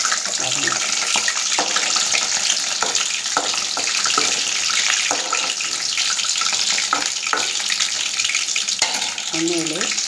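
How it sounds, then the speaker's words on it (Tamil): Garlic sautéing in hot oil in a pan for kara kulambu, a loud continuous sizzle and crackle close by with occasional clinks and stirring, no speech. "பொரிஞ்சிட்டு இருக்கும்போதே பூண்டு கொஞ்சம் போட்டுருங்க. ஸோ இதெல்லாம் கொஞ்சம் வதங்கட்டு, எண்ணெயிலே கொஞ்சம் வதங்க."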